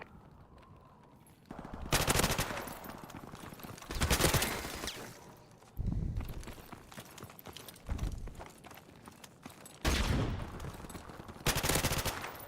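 Rapid automatic gunfire in Call of Duty Modern Warfare Remastered, loud close bursts of a few seconds each repeating about every two seconds with short pauses between.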